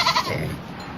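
A goat bleats close by in one short, wavering call that fades quickly, with no talk over it.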